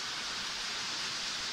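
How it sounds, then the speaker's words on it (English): Rain pours down beside a construction site next door, a steady broadband hiss of water with no voices. "Now it's raining water."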